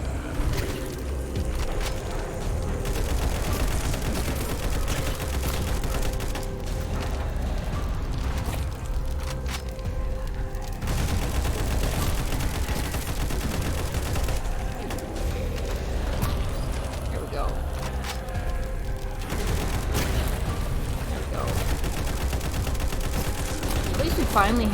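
Automatic weapon fire in the zombie game Frontline Zed, repeated rattling bursts running through a long stretch of mechanical game noise, with no talk.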